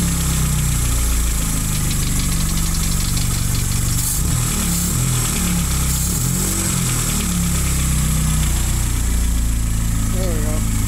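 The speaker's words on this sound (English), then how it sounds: "Since I did start it previous, I'm just going to give it a small rev" A Toyota AE86 engine idles loud and close with a steady low rumble, then lifts briefly in a small rev and settles back, and a voice speaks over it.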